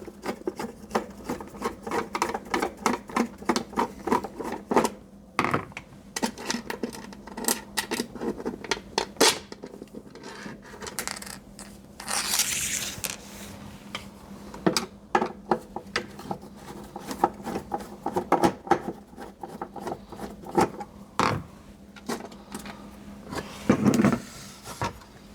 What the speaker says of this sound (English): So let's take these screws out, which will release the board.